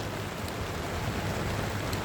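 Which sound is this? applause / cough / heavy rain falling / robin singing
heavy rain falling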